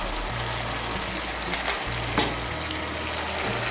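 Okra frying with green chillies and garam masala gives a steady, close sizzle in the pan, broken by a few brief stirring scrapes and pops.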